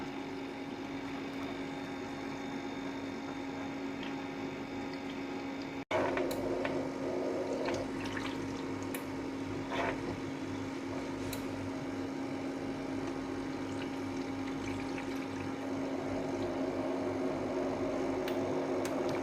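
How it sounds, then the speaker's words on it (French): A countertop ice maker hums steadily as water is pumped back up to make fresh ice, with a click partway through and a few faint clicks and trickles over the close, constant machine drone. "Et là, l'eau remonte et donc ça va me faire de nouveaux glaçons."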